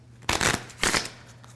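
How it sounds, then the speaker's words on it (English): A deck of playing cards is riffle shuffled twice in quick succession, each riffle a short, crisp burst of fluttering card edges, close and loud, with a brief pause between them. "all I do is I do a riffle shuffle, okay? I do 1 or 2 riffle shuffles."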